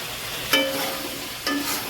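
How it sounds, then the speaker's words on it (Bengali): Flat beans and potatoes being stir-fried with spices in hot oil, producing a constant close sizzle with two sharp scraping stirs about a second apart. "সিমার আলুটা আবার একটু কষে দিলাম"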